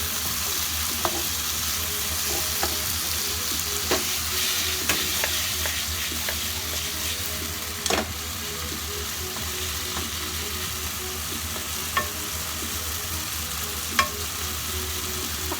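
Potatoes fry in hot oil for a Filipino ground meat omelette, giving a steady dense sizzle throughout with occasional clicks and taps of a utensil against the pan, and no talk.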